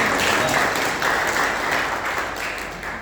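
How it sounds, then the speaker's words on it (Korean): Congratulatory applause for students from a Korean language school, given by a church congregation during a Sunday service: a steady, dense clapping from many hands that fills the room and gradually fades toward the end. "우리 수강 모두에게 다시 한번 축하의 박수와"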